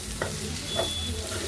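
Ivy gourd frying in a pan is stirred with a ladle, giving soft scraping strokes over a steady, close sizzle, with no talking.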